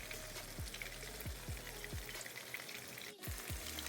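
Blackened fish fries in hot oil in a pan, giving a steady, fairly quiet sizzle with a few faint low knocks and shifts, heard close and without any voices.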